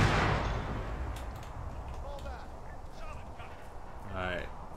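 An explosive charge detonated in the military shooter ArmA 3 lets off a loud blast at the start that trails into a long fading rumble, with a brief voice near the end.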